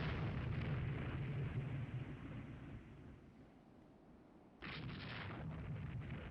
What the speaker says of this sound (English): Do a close drive-by shooting of the other one here